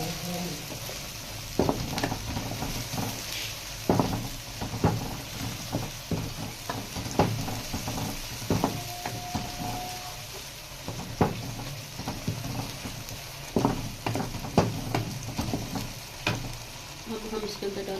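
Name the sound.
mixture being fried and stirred in a pan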